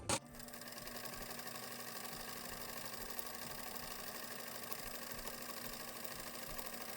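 A sewing machine stitches fabric for a Christmas gift, running as a steady, even motor hum with a faint whirring drone. It carries on without pause after a brief knock at the start.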